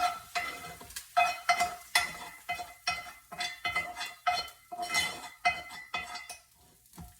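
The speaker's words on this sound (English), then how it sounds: "And give it a stir. Stir it up real good." A spoon stirs lentils in a pot, producing a steady, rhythmic series of close metallic clinks and scrapes, roughly two per second, over a faint sizzle.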